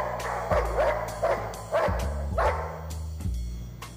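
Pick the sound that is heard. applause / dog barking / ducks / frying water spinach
dog barking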